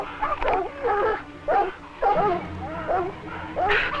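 Several dogs chasing a cat bark and yip excitedly in quick bursts, close and loud, with whining between the barks.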